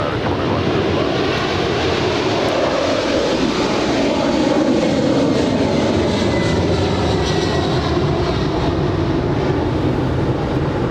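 A United Boeing 787 Dreamliner lands at Los Angeles International on runway 25 left, a loud continuous jet engine roar that swells and slowly shifts, with radio voices faintly in the background.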